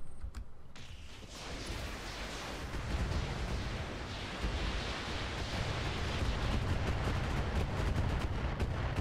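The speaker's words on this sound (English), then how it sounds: "Well, that's a lot of missiles." Dense, sustained roar of missile salvos firing in the Roguetech BattleTech mod, a continuous loud rumbling barrage with crackling impacts that swells and holds for several seconds.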